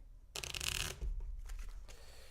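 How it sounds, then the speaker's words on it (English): Cards being shuffled by hand: a burst of rapid riffling flutter, then softer shuffling and a short final riffle, close and quiet. "Let's shuffle these things around again and see what we come up with."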